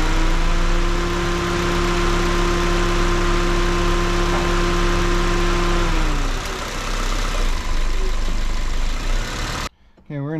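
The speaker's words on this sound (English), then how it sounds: "I'm just gonna go in and shift it through all the gears real quick." A 2005 Toyota Corolla engine idles steadily with a constant low hum while the transmission is shifted through its gears, the tone dropping and changing partway through, close and continuous, with a brief cut near the end.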